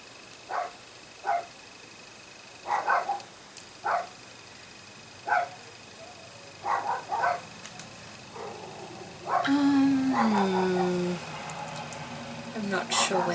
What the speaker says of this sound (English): oh, those dogs. So annoying.